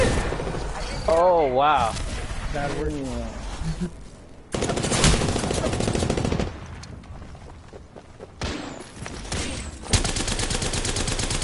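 Automatic gunfire rattles through a video game firefight in bursts, loud and close, broken by short pauses, while players talk and shout over it.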